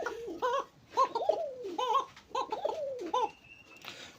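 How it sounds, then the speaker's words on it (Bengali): A pair of Koka pigeons coo in a repeated rhythmic series of rolling, warbling calls, close by and clear against a quiet background. "এই জোড়াটা দেখেন, মানে আমি ভিডিও করতেছি তাও ওর ডাক মিস নাই, এত সুন্দর ডাকে।"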